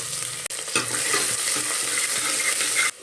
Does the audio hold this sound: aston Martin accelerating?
no